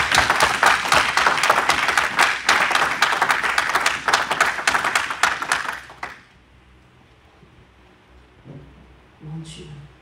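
A church congregation bursts into loud, sustained applause with brisk, overlapping claps for about six seconds, then the sound drops away to near quiet with a few faint sounds at the end.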